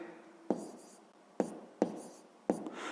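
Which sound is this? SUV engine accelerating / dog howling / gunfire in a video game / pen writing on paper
pen writing on paper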